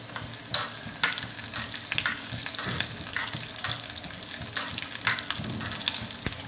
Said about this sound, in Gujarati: તેલ ગરમ થાય એટલે રાય ઉમેરીશું સાથે જ આપણે એક ચમચી અડદની દાળ પણ લઈશું